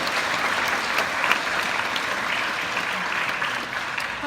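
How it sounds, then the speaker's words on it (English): Audience applause greeting a Canada Research Chair at a ministerial address to first-year students, a steady dense clapping from a large crowd sustained throughout without a break. "So can I have a big round of applause for Dr."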